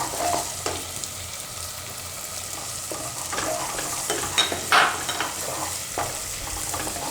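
Green garlic fries in oil with turmeric for a pigeon pea and potato curry, an even crackling sizzle with occasional scraping stirs and a louder clatter near the end, close and without talk.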